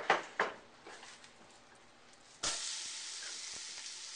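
Sliced onions drop into melted butter in a soup pot, starting with a few soft clinks and taps, then a sudden, steady sizzle that continues at moderate volume.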